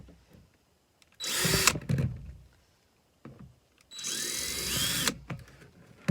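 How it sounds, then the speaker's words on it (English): A power drill whines loudly in two bursts, each about a second or more long, drilling holes in a DIY worm farm bin, with short quiet gaps and faint handling noises between. "we're gonna drill holes in every single"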